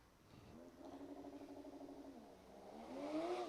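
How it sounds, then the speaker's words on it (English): A Cadillac Escalade V sits bouncing on its rev limiter during a launch at a drift event. The pulsing, buzzing engine note holds steady, then climbs and swells toward the end, heard from some distance. "The Escalade on the limiter, on the two steps, the launch, whatever it is, sounds insane"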